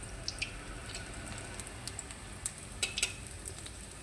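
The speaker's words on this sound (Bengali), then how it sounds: "আর এখন এইরকম গোল শেপে বড়াগুলোকে ভেজে নিচ্ছি।" Round prawn fritters (chingri macher bora) frying in a home kitchen give off a low, steady sizzle with scattered faint crackles and pops, quiet and continuous with no talking.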